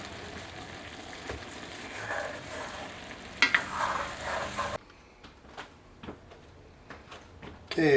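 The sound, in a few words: stirring brats and potatoes in cast iron pan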